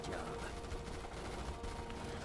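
Machine gun fire in Starship Troopers Terran Command, dense rapid bursts blending into a continuous rattling roar with battle noise, quiet overall, with some voices mixed in.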